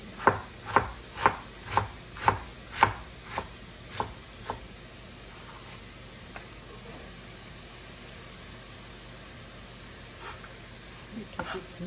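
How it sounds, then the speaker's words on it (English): Knife julienning vegetables on a cutting board: a run of about ten crisp, evenly spaced chops, loudest at first and then fading into a few scattered, softer taps against a quiet background. "Julienne."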